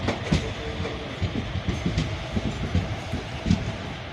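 A train rolls along the rails into the first platform on a foggy day between Tiruchirappalli and Vriddhachalam, its steady clickety-clack of wheels rhythmic and close, with a continuous rumble underneath.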